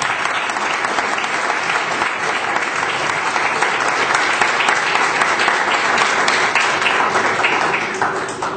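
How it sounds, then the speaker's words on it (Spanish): A seated audience at a book presentation in Bolivia gives sustained, loud, dense applause that runs evenly throughout and tapers slightly at the end. "Pido un fuerte aplauso, por favor."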